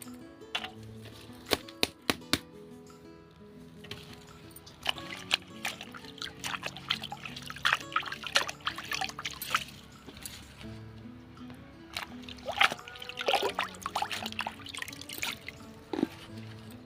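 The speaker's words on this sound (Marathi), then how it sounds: "ओली जी हळद आहे ती आपण धुवून घेऊया" Fresh turmeric roots being washed in water make irregular splashes, trickles and drips, with clinks and knocks of the roots against a vessel, near and moderately loud with no speech.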